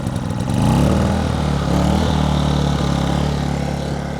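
A small portable generator engine sputters to life on the first pull and settles into a loud, steady running drone with a low rumbling hum throughout.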